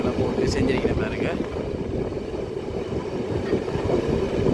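The Yarl Queen passenger train rolls slowly along the track with a steady, loud rumble and rattle of the carriages and some wind buffeting.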